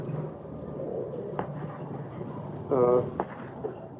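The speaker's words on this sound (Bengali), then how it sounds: "এই যে চব্বিশ সিংয়ের কবুতর এটাও মাদি কবুতর" A female Mundian pigeon held in the hand at a pigeon sale gives one short, close coo over a steady murmur of background noise.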